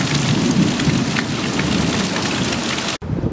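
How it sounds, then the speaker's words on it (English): Heavy rain pours down in a storm, a dense, loud, unbroken hiss and patter drumming across surfaces, continuous and close, with no voices, then cutting off abruptly near the end. "So far, we don't have any big wind, but boy, do we have the rain."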